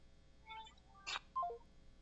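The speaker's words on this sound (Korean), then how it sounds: "저희가 전화 잘못 걸은 것 같습니다" A telephone number is dialed, giving a few quiet, brief touch-tone beeps in quick succession over a faint background hum.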